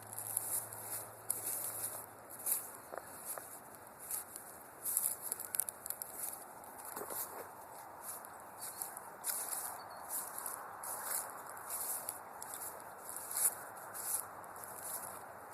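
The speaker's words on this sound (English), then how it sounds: "There's a lot of birds in this tree. Hear them all." Many birds chirp and twitter together in a tree outdoors, a steady busy chorus of high calls at moderate distance with a few louder notes standing out, no talking.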